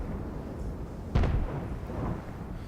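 A single heavy tank gun shot in World of Tanks, a tier 10 clan wars battle on Sand River, booming once at mid-distance with a short rolling tail over a steady low background rumble.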